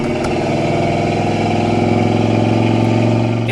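A 1984 Chevrolet Monte Carlo with a 305 V8 and automatic transmission runs loud and close, its engine note rising in a steady drone with throttle.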